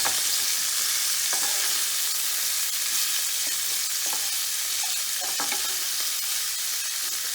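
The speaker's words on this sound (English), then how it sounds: "And we saute that together." Sausage and cipollini onions saute in a hot pan, giving a steady, loud sizzle and frying hiss throughout with occasional faint stirring clicks and pops, no talking.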